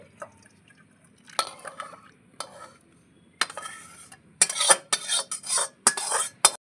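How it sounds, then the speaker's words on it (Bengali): Thin rohu fish curry made with ground spice paste is ladled into a bowl, with clinks of a spoon against the pan and short splashing pours in quick bursts, close and otherwise quiet. "এই বাটির মধ্যে আমি ঝোলটা ঢেলে নিচ্ছি"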